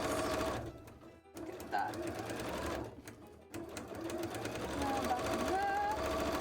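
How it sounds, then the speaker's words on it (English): A sewing machine stitches cosplay shoes, whirring in a steady run with short stops. Quiet speech is heard alongside it. "let's sew the other one while we're here"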